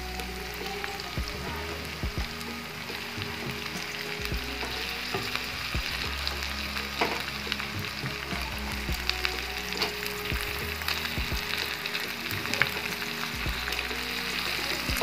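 Chicken sizzling and frying steadily in a pan with softened onions, a continuous close crackle with occasional stirring scrapes throughout, no talking.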